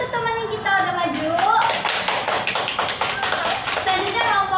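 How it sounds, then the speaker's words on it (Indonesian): Classroom applause for a group that just finished presenting in a microteaching lesson on food additives, a steady clatter of many hands clapping for several seconds over a voice and murmuring. "beri tepukan yang dulu untuk teman kita udah maju"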